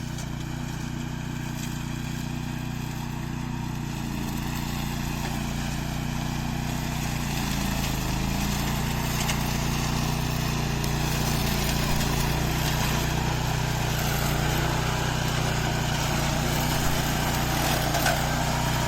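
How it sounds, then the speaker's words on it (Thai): A single-cylinder 18 hp petrol riding lawn mower runs steadily and close by, a continuous engine drone with no talk over it for the whole stretch. "ตัวนี้เป็นเครื่องยนต์เบนซิน18แรงนะครับ"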